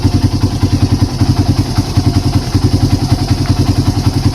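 A fuel-injected Honda Beat motorcycle engine idles close by with an even, rapid thumping pulse that holds steady throughout, no voices over it.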